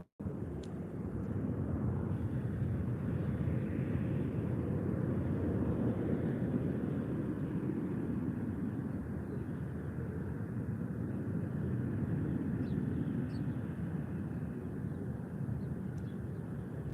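Wizz Air Airbus A321neo airliner at Málaga airport, a steady broad jet roar that holds level throughout, distant and fairly soft with faint wind noise, no voices.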